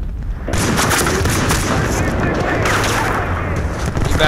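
Gunfire in the video game Bad Company 2, a loud, dense and continuous barrage of shots and blasts that swells after a brief quieter opening.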